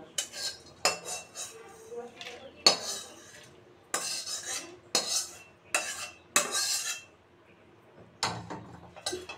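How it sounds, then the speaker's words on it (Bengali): Grated coconut is lightly fried in a pan and stirred, with a spoon scraping and clinking against the metal in irregular bursts separated by short quiet gaps, close and clear. "নারকেলটাও একটু হালকা ভেজে নিলাম।"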